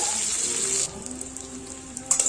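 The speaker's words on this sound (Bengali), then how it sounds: "পেঁয়াজটা একটু ভালো করে ভেজে নেব।" Onions sizzling in hot oil in a kadai with whole cumin, a steady loud hiss that drops to a quieter crackle partway through, with a few faint stirring clinks.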